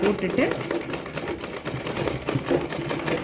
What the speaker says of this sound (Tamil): இப்போது இந்த இடத்துல வச்சுட்டு அதே மாதிரி தான் ஒரு ரிவர்ஸ் ஸ்டிச்